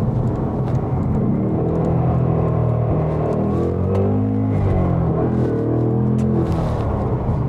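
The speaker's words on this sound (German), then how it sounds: "Wirklich einfach nur runterschalten." Ford Mustang GT with a 5-litre V8, downshifting with automatic rev-matching: loud, close engine rumble with several sharp throttle blips whose pitch sweeps up and down between gears.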